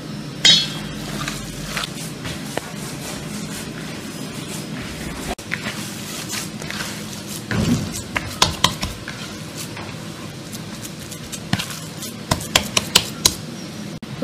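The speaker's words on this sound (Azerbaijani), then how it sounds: "Hamısı yaxşı bir yerə qarışdırırıq." Breadcrumbs, flour, chopped greens and minced meat being stirred together in a bowl for cutlets, with steady scraping and mixing clatter and sharper knocks of a spoon against the bowl near the end, no talking.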